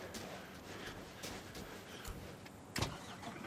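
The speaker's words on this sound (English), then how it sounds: "we'll just drive forward a tiny bit, past the truck here" In Construction Simulator, a truck's engine hums at a steady low level while it drives forward a short way, with a brief louder clunk near the end, all faint and distant.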